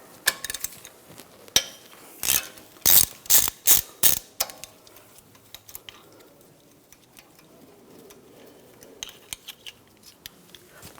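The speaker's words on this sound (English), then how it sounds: "Using a 5mm hex socket, I'm going to take this bolt out for the wheel speed sensor." A ratchet with a 5mm hex socket loosens the wheel speed sensor bolt on a 2009-2013 BMW 328i xDrive, with quick bursts of close, sharp clicking early on, then quieter scattered clicks and handling noises.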